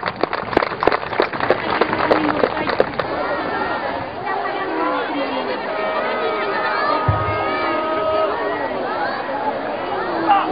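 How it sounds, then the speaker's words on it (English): Audience applause for an honoree at a formal ceremony. A dense burst of clapping fills the first few seconds, then fades into steady crowd murmur and voices. "Ladies and gentlemen, let us give our honoree another big round of applause."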